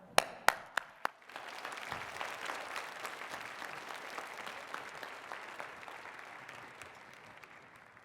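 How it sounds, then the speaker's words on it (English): An audience at Keyboardfest 2022 applauds. A few sharp, separate claps come first, then a full burst of clapping swells and slowly thins out, fairly soft and distant. "Now you can applaud."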